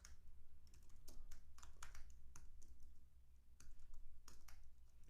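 Steady, fairly quiet clicking of a computer keyboard as JavaScript code is typed, with irregular rapid keystrokes heard close up and no talking.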